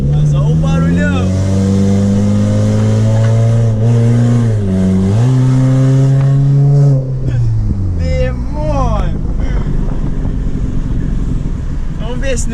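Loud Ford Focus exhaust while driving, a deep droning roar that climbs and falls through gear changes, rising sharply near the end, with wind buffeting throughout and no talk over it.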